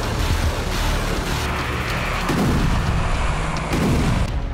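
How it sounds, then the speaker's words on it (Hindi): Cluster bomb explosions in Kharkiv, Ukraine, striking army positions: a loud, continuous roaring rumble with heavier booms rising out of it. "ज्यादा से ज्यादा तबाही मचाने के लिए रूस ने एक बार फिर क्लस्टर बम का इस्तेमाल किया।"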